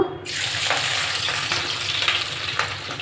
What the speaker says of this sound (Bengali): তেলটা আমি ভালো করে গরম করে নিয়েছি এবার কেটে রাখা পেঁয়াজগুলো দিয়ে দেব